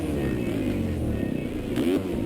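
A motorcycle engine revs in the MX Simulator motocross racing game, a steady, close buzzing drone with small rises in pitch that runs without pause through the whole short stretch.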